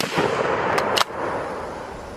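A single sharp report rings out from a military surplus carbine rifle fired outdoors, one close crack over a hiss of background noise.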